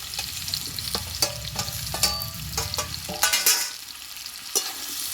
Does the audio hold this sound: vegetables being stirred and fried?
yes